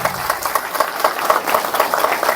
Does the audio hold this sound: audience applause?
yes